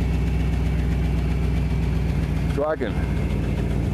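A 1974 Ford F250 truck engine idles steadily and loudly up close, a continuous low rumble running throughout while someone talks briefly over it.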